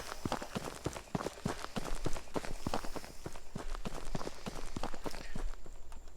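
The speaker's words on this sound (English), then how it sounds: "We have footstep sounds with a basic attenuation." Footstep sound asset demo in Unreal Engine 4, a quick, steady run of evenly spaced footfalls on a hard surface, moderately loud over a faint background hiss, with no talk.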